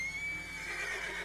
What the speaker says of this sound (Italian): Vabbè, ma questo cavallo è incazzatissimo.